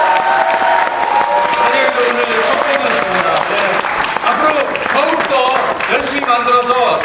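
A theatre audience applauds loudly at the curtain call of the first performance of the musical Special Liar, with sustained dense clapping, some cheering and voices mixed in, all close and continuous.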